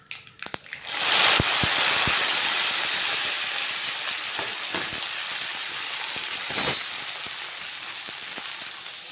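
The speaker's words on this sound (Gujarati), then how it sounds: "અહીંયા શાક વઘારે છે ભીંડાનું" Okra hitting hot oil tempered with cumin in a home kitchen, an abrupt loud sizzle that settles into a steady hiss and slowly fades, with a few utensil knocks and a second surge partway through.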